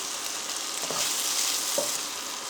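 Chicken taco filling for cheese tacos sizzles steadily in a frying pan while being mixed, with a couple of soft utensil scrapes against the pan over constant close frying hiss.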